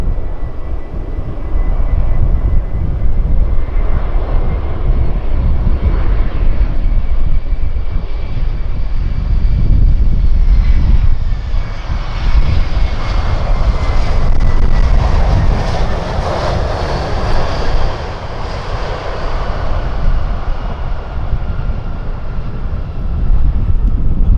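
A Sun Phu Quoc Airways Airbus A321 lands on runway 07L at Tan Son Nhat, its loud jet roar passing close, swelling into a whooshing peak midway and easing slightly toward the end, with no voices.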